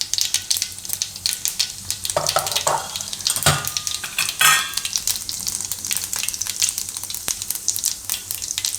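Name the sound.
mustard seeds and cumin sizzling in hot oil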